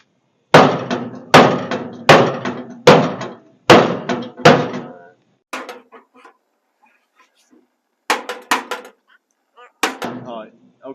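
Hammer blows on the sheet metal of a 1946 International, working out a crease: a rhythmic run of sharp metallic strikes, then softer scattered taps and a few more hits, with brief talk between.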